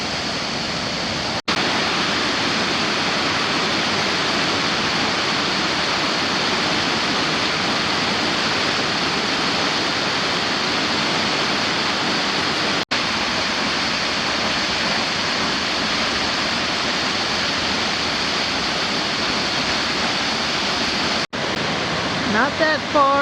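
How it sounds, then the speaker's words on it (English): Waterfall near a campground, a dense continuous roar of falling water, loud and close, with wind buffeting the microphone and a few brief dropouts. "Ah, we made it to the waterfalls."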